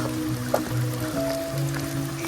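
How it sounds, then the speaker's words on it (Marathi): Spring water runs from a cow-mouth stone spout at a Gaumukh temple, a soft trickling splash under faint, sustained tonal background sounds. "आणि मुखातून पाणी येतं"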